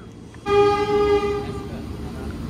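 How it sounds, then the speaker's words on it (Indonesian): An old electric locomotive at a Jakarta parade marking 100 years of electric trains sounds a loud, sustained horn blast for about a second, then a lower rumble carries on as it rolls past. "ini ada lokomotif melintas langsung"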